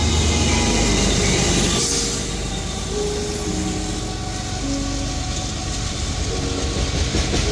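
A CSX freight train hauling a Union Pacific locomotive rolls past, a loud continuous rumble of wheels and cars with a steady roar throughout, no voices.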